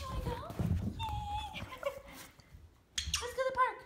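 A dog whimpers and yips in short, high-pitched bursts mixed with a person's excited talk nearby, the whines rising and falling across the clip.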